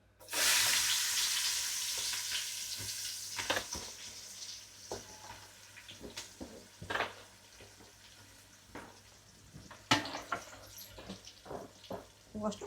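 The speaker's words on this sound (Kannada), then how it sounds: "ಉಳ್ಳಾಗಡ್ಡಿನ ಗೋಲ್ಡನ್ ಬ್ರೌನ್ ಬರೋವರೆಗೂ ಅದನ್ನು ಚಲೋ ಹೊತ್ತಂಗೆ ಎಣ್ಣೆ ಒಳಗೆ ಫ್ರೈ ಮಾಡ್ಕೊಳ್ತೀವಿ" Onions, green chillies and whole spices such as bay leaf, cinnamon, cardamom, cloves and pepper frying in oil give a bright sizzle that starts loud and fades, broken by stirring clinks and scrapes, while a person talks quietly.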